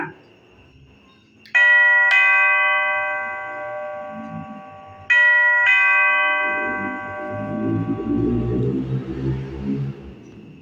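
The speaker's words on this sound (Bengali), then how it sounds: "ওই কলিং বেল বাজছে" A household doorbell rings twice, each a bright two-tone electronic ding-dong that sustains and fades, separated by a few seconds, with low muffled room sounds and faint voices underneath in a radio drama.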